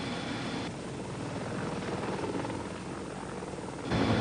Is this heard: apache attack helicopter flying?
yes